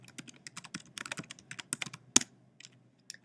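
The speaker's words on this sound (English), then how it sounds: "we'll type in our school email address" Rapid keystrokes on a computer keyboard as a school email address is entered, an irregular run of sharp clicks with one louder tap near the end and a brief pause before the final keys.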